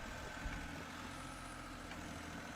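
A 6x6 six-wheeled tractor engine runs as a steady, faint low rumble with a constant drone and no talking.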